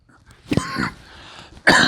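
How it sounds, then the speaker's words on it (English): A person coughs close by, a couple of harsh bursts with a pause between them, with no talking. "Cough all you want"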